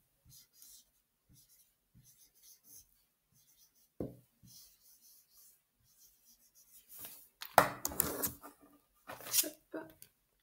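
A pen or pencil writes a word by hand on paper in a string of soft, light scratches and taps, followed by a louder rustle near the end. No one speaks over it.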